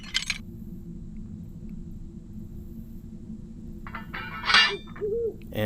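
An owl hooting in the Colossal Cave VR video game: a few soft hoots sound near the end over a low, steady ambient hum, with faint chirps early on.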